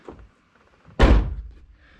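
The door of a Honda S2000 with a newly fitted Racequip bucket seat, not yet bolted in, shuts with one loud, close slam and a low thud that fades quickly, after a few soft rustles and creaks.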